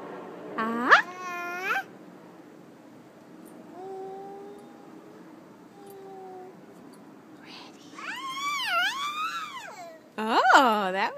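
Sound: child imitating a bird call

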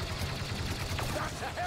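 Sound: gunfire in the video game Star Wars Battlefront II

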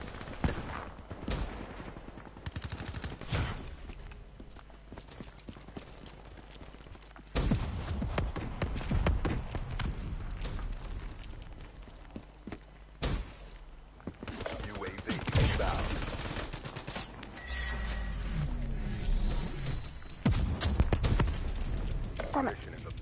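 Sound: PPSh gunfire in video game Black Ops 3

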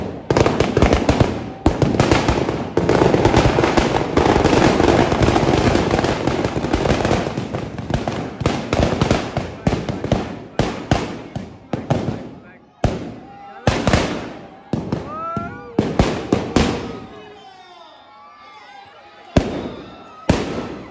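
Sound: firecrackers bursting in a burning Ravan effigy at Dussehra

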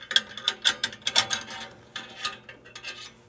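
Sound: undoing the bolt on a furnace flame sensor

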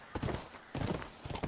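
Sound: horse hooves clip-clop in video game The Last of Us

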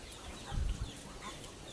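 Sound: flock of Muscovy ducks on a raised floor

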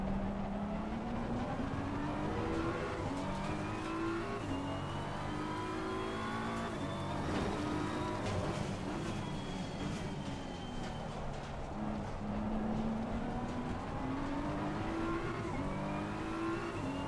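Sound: race car engine and tires in Assetto Corsa Competizione video game

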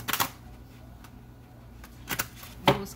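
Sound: tarot cards being shuffled

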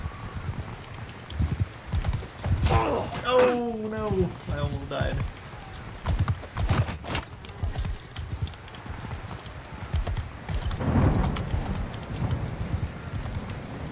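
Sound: horse galloping hooves in video game Bannerlord

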